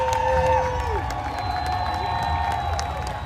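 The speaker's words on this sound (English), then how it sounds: "Everybody's applauding that." A crowd lining the Seattle Pride Parade route cheers, whoops and claps as a troop of Cub Scouts passes, a loud continuous roar of voices and applause with tonal whistles or horns layered on top.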